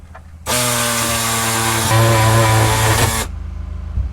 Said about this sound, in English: You hear the compressor kicking back on?